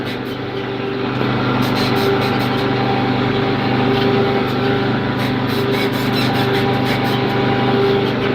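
A farm tractor engine runs steadily and close by, a constant mechanical drone with faint rhythmic knocking, loud and alone without talk.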